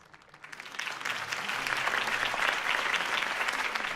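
Crowd applause after a political campaign speech in a Batman video game, swelling quickly from quiet into loud, sustained, dense clapping.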